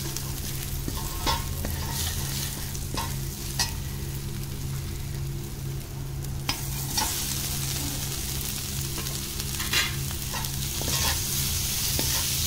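Dry potatoes fry in desi ghee with spices, giving a steady close sizzle beneath repeated scraping stirs and occasional clinks of the spoon against the pan, with no speech.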